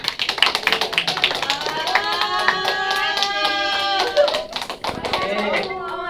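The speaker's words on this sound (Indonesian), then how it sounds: "Oke, beri tepuk tangan." A classroom group claps in quick, distinct taps, with voices chanting or calling over the clapping nearly the whole time.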